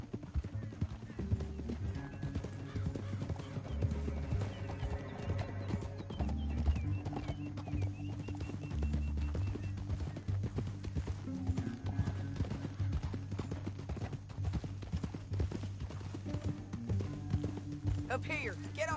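Horses gallop with a steady clip-clop of hooves and an occasional neigh in Red Dead Redemption 2, set over a continuous bed of game music with speech mixed in.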